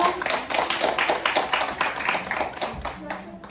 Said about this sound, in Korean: 우리 친구들 수고했던 거 박수 한번 줄까요?